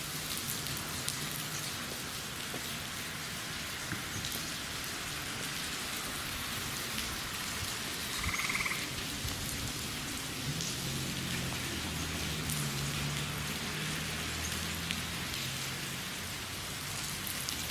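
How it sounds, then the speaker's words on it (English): A steady rain shower patters on surfaces with water dripping off a roof, a constant hiss with close drips throughout, and a faint low rumble in the background. "It may sound worse than it is just because we've got water dripping off the roof here."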